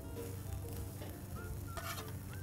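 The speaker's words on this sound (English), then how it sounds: "You can hear that sizzle." Burgers sizzle steadily on a hot grill, a constant crackling hiss with faint scraping, close and continuous.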